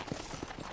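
Hooves of a stallion clip-clop in Red Dead Redemption, two or three quiet, close thuds in a brief burst with no voices.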